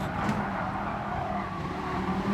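Viper race car in a racing video game, engine droning steadily with a thin tire screech near the start as the wheels scrabble for grip, continuous and close throughout.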